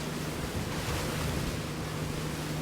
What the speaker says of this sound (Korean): 배 파도 물결이 이렇게 양쪽으로 갈라지는 소리들이 막 들려요.